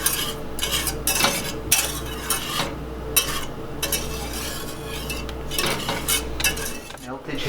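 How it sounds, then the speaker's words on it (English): Sugar whisked in a pan over medium-high heat while it melts for a caramel sauce, with rapid metallic scraping and clinking of the whisk against the pan in quick repeated strokes, close up and without talking. "We're gonna add the sugar and whisk it until it is entirely melted and stops clumping on the whisk"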